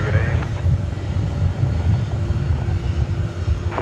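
A large airliner at DFW Airport rumbles steadily as a low, broad engine drone, with wind buffeting the microphone throughout; the sound stays constant and moderately distant for the whole stretch, without spoken words.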